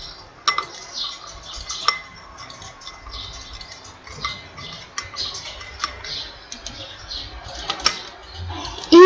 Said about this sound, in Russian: И все хорошенько перемешиваем.